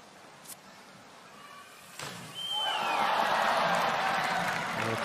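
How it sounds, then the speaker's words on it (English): Crowd at the men's 10m platform diving final in Beijing bursts into loud sustained applause and cheering after a dive, rising suddenly after quieter murmur and holding steady. "Crowd showing appreciation for the exploits of Yang"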